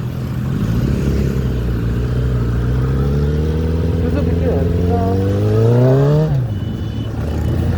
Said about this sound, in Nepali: बाइक यसरी स्पिड त गुडाउनु नहुने हो